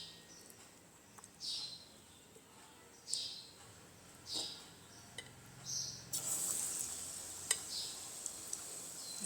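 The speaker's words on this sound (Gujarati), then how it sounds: "તો આપણું તેલ પણ ગરમ થઈ ગયું છે. તો આ ડુંગળીને આપણે આમાં ઉમેરી દઈશું" Onion rings for ring bhajiya frying in hot oil, a steady low sizzle with bursts of crackle and spatter recurring every second or so, getting louder and denser toward the end.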